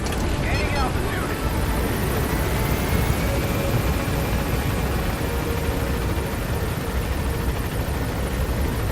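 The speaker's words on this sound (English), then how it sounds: "That helicopter is not supposed to be there." Helicopter in Metal Gear Solid V: The Phantom Pain, a steady rotor and engine drone that holds at a constant level throughout, with a faint voice over it at moments.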